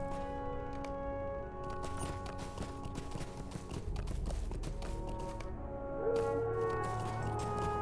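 A horse clip-clopping along in the online game Lord of the Rings Online, its quick rhythmic hoofbeats running under sustained game music with droning tones, moderately loud and steady throughout.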